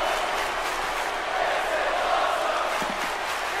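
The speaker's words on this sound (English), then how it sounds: "The crowd is chanting, this is awesome!" A crowd chanting in the wrestling video game WWE 2K19: a dense, steady roar of many voices in an arena, loud and unbroken throughout, with faint clatter beneath.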